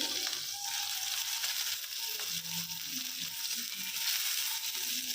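Eggplant pieces hit hot oil in a pan with turmeric, a steady close sizzle and frying hiss with faint stirring scrapes, no talking.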